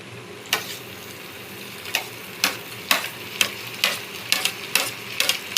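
Chopped tomatoes frying with chicken in a pan, an even close sizzle with a steady rhythm of sharp spatula scrapes and taps roughly every half second.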